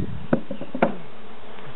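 Honey bees buzz close by during a hive inspection, with a couple of sharp brief buzzing bursts over a low background hum.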